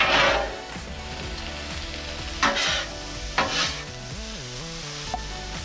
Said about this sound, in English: I'm gonna throw some mushrooms on top. Give that a mix. Let them cook up real good.